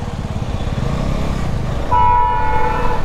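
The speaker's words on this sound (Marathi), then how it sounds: "डॉमिनरचा हॉर्न बघितलात का?" A Bajaj Dominar motorcycle idles with a low, steady engine throb, then its horn sounds once as a loud, sustained tone lasting under a second over the running engine.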